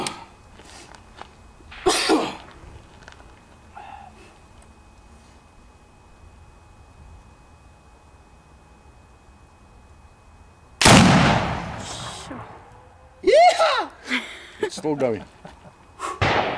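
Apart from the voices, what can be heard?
4 bore rifle shot with heavy powder charge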